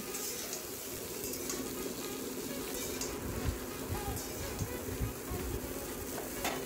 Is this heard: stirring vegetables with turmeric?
yes